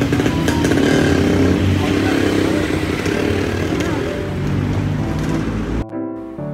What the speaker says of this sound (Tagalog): ito na yung motor, nabili ko na siya. Itong Honda Click 125